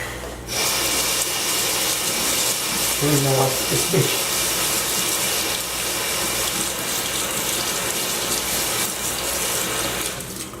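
Tap water runs steadily into a kitchen sink as quinoa is rinsed: a close, continuous hiss and splash that lasts the whole stretch, with a brief rise in tone early on.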